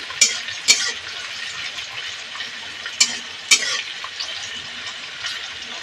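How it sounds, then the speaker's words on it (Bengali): Chopped onions frying in a pan, a steady close sizzle with a few sharp clicks of a spatula stirring against the metal. "পেঁয়াজটা একটু লাল লাল করে ভেজে নেবো"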